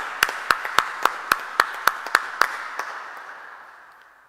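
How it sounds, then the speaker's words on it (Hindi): At a Pentecost church gathering, a small group claps in a steady, even rhythm, about a dozen crisp claps close by in a reverberant room, fading out with a ringing tail. "जोरदार तालियों के साथ।"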